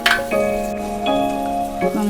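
Green chillies frying in oil with turmeric and chilli powder for a Kerala chilli pickle, a steady sizzle broken by ringing metallic stirring clinks from a pan.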